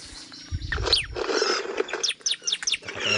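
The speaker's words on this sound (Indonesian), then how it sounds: "ini ada burung ciblek ya. Tuh tuh lihat, kita mau panggil dulu biar dia mendekat ya." A bar-winged prinia calls in a rapid series of sharp, high chirps and trills, fairly close and loud, with some rustling thumps early on and no speech.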